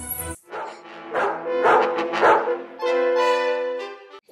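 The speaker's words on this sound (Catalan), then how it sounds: "Se m'ha escapat el meu gos" A small dog yips and barks in quick bursts, then lets out a drawn-out whimpering whine, close and fairly loud with no talk over it.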